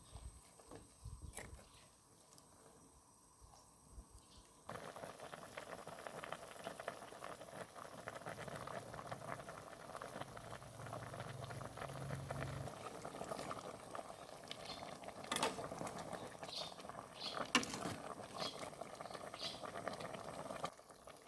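A pot of mustard green soup with tamarind bubbles at a gentle, steady boil, giving a quiet, continuous patter of bubbling close to the pot.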